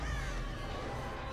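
Crows caw from the Artist's birds in Dead by Daylight, a dense, raspy flock cawing close and loud in a continuous harsh clamor over a low rumble, with no talk.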